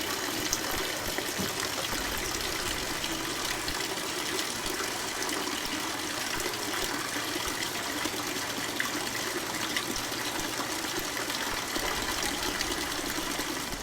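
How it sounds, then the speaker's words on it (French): Water runs steadily down a water chain in a historic Japanese garden in Kanazawa, a continuous close rushing and splashing that holds even for the whole stretch with no voices. "Une ligne d'eau, une chaîne d'eau."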